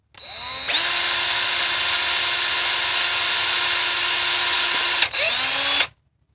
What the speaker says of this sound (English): the first holes to be drilled are 46 thousandths